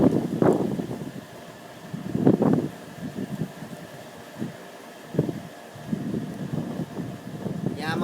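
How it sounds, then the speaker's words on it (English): Strong wind during a thunderstorm buffets close by in irregular rough gusts, rising and falling in loud bursts over a low background roar. "Oh my God, it's windy."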